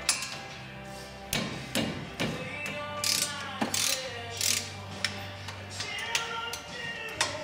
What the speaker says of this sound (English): You're going to require a 1/2 inch ratchet along with 13/16 socket.